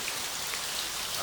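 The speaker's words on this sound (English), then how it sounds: "we're on a Wili Wili Nui hike, and it is pouring" Heavy rain pours down on the Wili Wili Nui Ridge Trail, a dense, close, unbroken hiss of rainfall with no voices.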